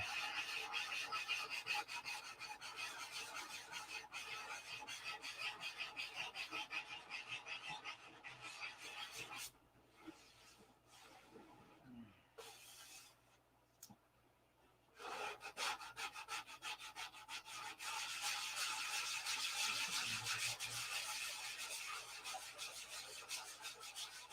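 Hand sanding on a large P-47 scale model airplane: steady, continuous rasping strokes close by, pausing briefly midway before resuming at full intensity.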